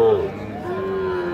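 A calf at a cattle market in Parbatipur, Dinajpur, gives one drawn-out moo, close and fairly loud, over faint crowd murmur.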